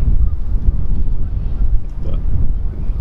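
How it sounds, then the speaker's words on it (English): Wind gusts blowing outdoors at an open historical site, roaring steadily into the microphone with low rumbling buffets throughout, close and fairly loud, with no talk. "we'll go outside real quick and see if we can catch a wind gust or two"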